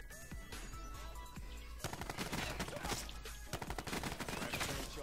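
Rapid automatic gunfire from a Maddox RFB rifle in a Call of Duty Black Ops match, dense bursts of loud cracking shots that thicken after the first couple of seconds, with battle noise around.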